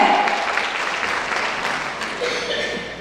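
An audience applauds a speaker at a talk, with steady, fairly loud clapping from many hands that fills the whole moment without pause, close and continuous.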